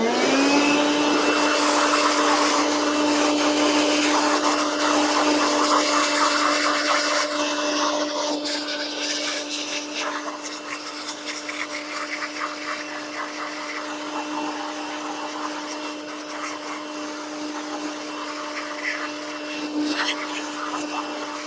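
A blower roars steadily while clearing bees out of honey supers, a loud sustained whine that eases slightly partway through, with a person speaking over it.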